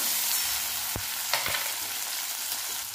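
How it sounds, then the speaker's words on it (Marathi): Finely chopped tomatoes fry in oil for a spiced tadka dal, with a steady close sizzle and crackle, plus a couple of soft clinks from a spoon or pan. "त्याच्यामध्ये आपल्याला बारीक चिरलेले टमाटर टाकून घ्यायचे। टमाटर छान नरम होईपर्यंत आपल्याला भाजून घ्यायचंय।"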